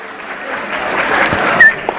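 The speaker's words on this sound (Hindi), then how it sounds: "इन बच्चों के लिए तालियां बजती रहेंगी" At a school annual function, an audience gives the children a short burst of applause that swells briefly, with faint voices mixed in.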